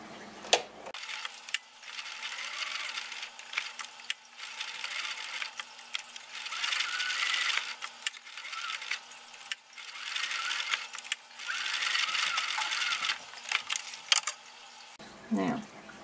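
Sewing machine stitching slowly around the curved edges of small mittens for an 18-inch doll, a steady close mechanical whir running in several bursts with brief pauses between them.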